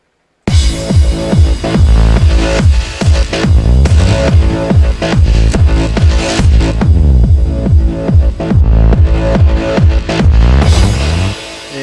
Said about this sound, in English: And I'm going to play the kick with the FM bass